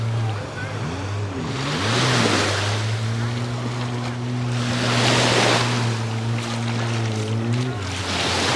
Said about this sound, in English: See them hiring jet skis out there.